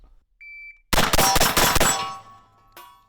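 A shotgun fires five shots in quick succession on a timed shooting run, loud and close with a sharp rapid rhythm, preceded by a shot-timer start beep and ending with a fading ring.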